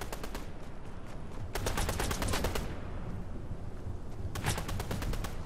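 Bursts of rapid automatic gunfire and scattered single shots ring out in a video game, loud and close, in several clusters with short gaps between them.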